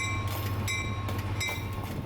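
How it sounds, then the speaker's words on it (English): The Seminole Gulf Christmas train, hauled by an F7A diesel locomotive, gives a steady rumble with a tonal engine drone. It sounds moderately distant and keeps an even level throughout. "this is the Seminole Gulf Christmas Railboat Train"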